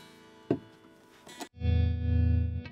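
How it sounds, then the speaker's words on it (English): An electric guitar plays through the tremolo effect of a Boss Katana 50 MkII amp: a few picked notes, then a sustained chord whose volume pulses in a steady, quick wobble. "Nice sounding tremolo and the speed of that."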